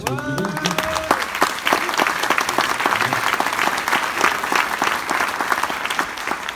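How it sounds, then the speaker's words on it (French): Conference audience applauding, dense and lively clapping after a brief voice at the start, continuing steadily and close with many distinct sharp claps. "Vous pouvez applaudir Julien de l'agence TAS qui est là"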